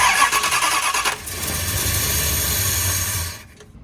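A 1970 Dodge Charger engine cranks loudly for about a second with a choppy starter rhythm. It then catches and runs at a steady, rough idle before cutting off abruptly.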